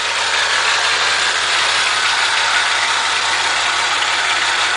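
A 1993 Dodge Dakota 3.9L engine runs at a constant loud idle up close, with a fine, fast ticking from its fuel injector inside the steady mechanical drone.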